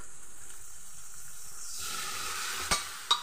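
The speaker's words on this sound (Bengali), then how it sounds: "সামান্য একটু ডাল দিয়েই আমি মশলাটাকে কষিয়ে নিচ্ছি" Spices sizzle in a pan with a little pigeon pea dal added, a soft steady hiss that swells louder partway through, with two sharp stirring clacks near the end.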